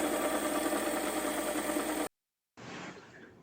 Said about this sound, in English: so now we're going to work on the sides on our belt sander